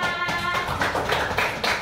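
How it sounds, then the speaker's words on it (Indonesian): Classroom applause from students for a presenting group, a steady patter of hand claps filling the room at moderate loudness with no voices over it. "berikan tepuk tangan untuk kelompok 4"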